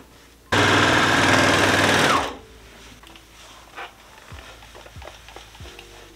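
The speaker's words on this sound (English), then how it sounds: "we're going to sew those right sides together to make a loop" A sewing machine runs in one steady, loud burst of about two seconds as it stitches the right-side-together ends of a fabric waistband into a loop, then stops, leaving quiet handling noises.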